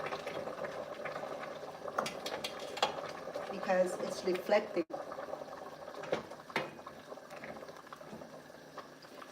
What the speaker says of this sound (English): It's boiling because it's hot, because it's boiling water, okay?